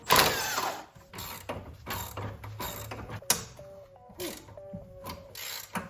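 A coilover wrench turns a car's coilover adjuster with a ratcheting mechanism, producing close, irregular metallic clicks, grinding scrapes and short squeaks.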